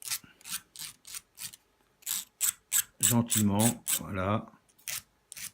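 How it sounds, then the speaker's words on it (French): Filing through fired enamel on a copper piece to expose the bare metal: a close, rhythmic series of rasping strokes, with a person speaking briefly over them partway through. "Il suffit de limer et le cuivre apparaît."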